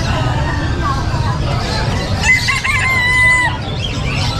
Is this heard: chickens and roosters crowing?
yes